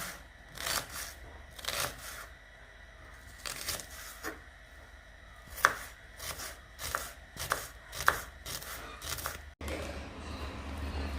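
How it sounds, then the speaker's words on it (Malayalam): A knife chopping onions finely on a board, with irregular crisp taps in small clusters, some sharper than others, close and fairly quiet, with a short pause near the end. "സബോള നല്ല ചെറുതാക്കി കട്ട് ചെയ്യാം കേട്ടോ"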